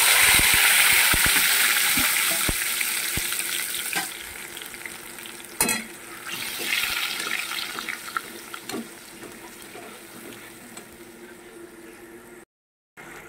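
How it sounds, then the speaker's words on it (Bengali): Cumin seeds frying in hot oil in a pan, a bright steady sizzle that is loudest at first and gradually eases, broken by scattered sharp pops and a few clinks of a utensil. "ওখানে একটু তেল দিয়ে দিয়েছি, আর একটু দিয়ে দেবো একটু জিরে ফোড়ন। জিরেটা একটু ভাজা ভাজা হচ্ছে"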